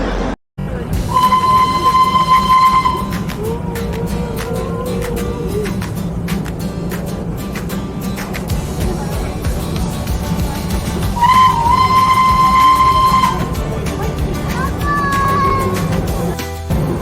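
The Darjeeling Himalayan toy train, a heritage narrow-gauge line running since 1881, sounds two sharp steady whistle blasts about ten seconds apart over a continuous rumble and clatter as it sets off on its joyride.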